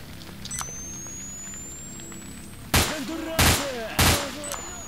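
Three loud, sharp gunshots from the S.T.A.L.K.E.R. video game, fired at bandits, come in a quick, evenly spaced sequence after a stretch of low game ambience.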